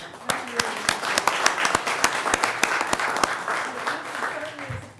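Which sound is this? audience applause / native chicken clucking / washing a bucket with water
audience applause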